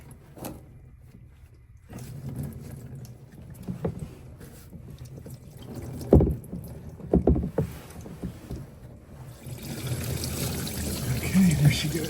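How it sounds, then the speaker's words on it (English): Coolant drains and trickles from a loosened lower radiator hose on a 1985 Chevy Caprice, a low splashing pour that grows steadier and louder toward the end, with a few knocks of handling nearby. "We got it loosened, it's dripping."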